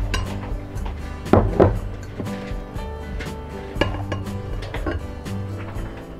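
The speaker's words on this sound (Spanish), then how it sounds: "Vamos a empezar a mezclar nuestros ingredientes secos." Dry ingredients such as baking soda, baking powder, ground garlic, pepper and salt being mixed in a bowl for sausage banderilla batter, with utensil clinks and clatter against the dish, loudest in a pair of knocks early on, then steadier scraping.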